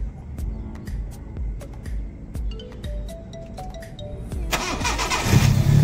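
A Honda Civic Dimension engine cranks with a rapid rhythmic churn, then catches and rises into a louder, rougher rev in the final second, recorded up close with no talking.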